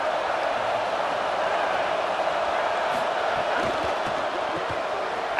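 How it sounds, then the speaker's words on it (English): Stadium crowd roaring during a College Football 27 game, New Mexico State against Florida State, a steady, loud, dense wall of cheering noise throughout. "The roar of the crowd trying to fuel this defense to keep them pinned in their own end."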